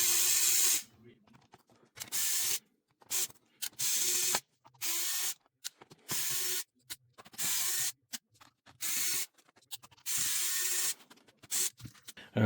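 Short bursts of a small electric screwdriver whir repeatedly with brief quiet gaps between them as screws come out of the back cover of a Dell Inspiron 5502 laptop, close and fairly clear.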